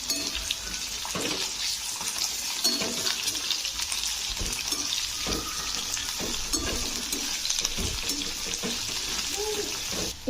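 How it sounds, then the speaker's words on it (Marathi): Sliced onion sizzles steadily in hot oil with chillies and curry leaves in a home kitchen, a continuous bright frying hiss broken by occasional stirring scrapes, close and moderately loud. "त्यातला आता कांदा थोडासा फ्राय होतोय"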